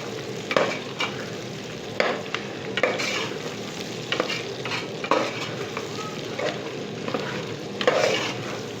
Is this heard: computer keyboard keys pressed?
no